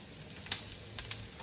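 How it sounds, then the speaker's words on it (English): Asparagus sizzles softly in a pan, a quiet frying crackle with a few sharp pops and spatters scattered through the short stretch. "I'm just gonna cook the asparagus."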